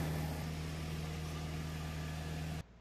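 Spinning rear wheels of a BMW raised in a shop for wheel speed sensor diagnosis, a steady low mechanical hum and whir that holds evenly for several seconds, then cuts off abruptly to near silence.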